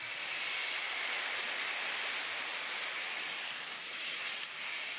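White wine poured into a hot skillet with bacon, giving off a steady, even hiss of sizzling that carries on unbroken and fairly loud, with no speech.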